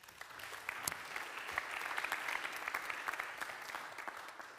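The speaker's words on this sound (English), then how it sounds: "Great to start with an applause this morning." A conference audience gives a keynote speaker a steady round of applause at a healthcare strategy panel. The clapping is soft and somewhat distant and continues without a break.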